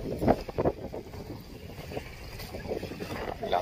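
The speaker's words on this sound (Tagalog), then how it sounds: "Lakas ng hangin" Gusty wind at Manila Bay buffets the microphone in uneven rushes and low rumbles, with no voices.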